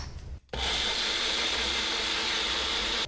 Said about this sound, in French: Je mets le couvercle et il n'y a plus qu'à mixer le tout